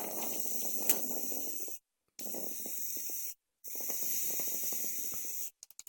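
Air blown through a flooded Aspire BDC vape coil head, making close, faint hissing and sputtering bursts that stop in two short silent gaps.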